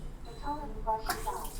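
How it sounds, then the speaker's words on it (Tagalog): A toilet on full flush lets go partway through with a sudden rushing gush of water, while voices chatter close by. "Hi toilet. Full flush."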